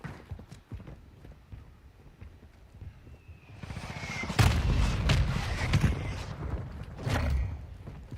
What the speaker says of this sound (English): Enemy mortar strike in the area.